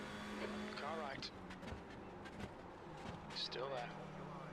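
A TCR touring race car runs alongside in a racing game, engine notes rising and falling through gear changes and a passing whoosh, close and loud, with a voice speaking over it.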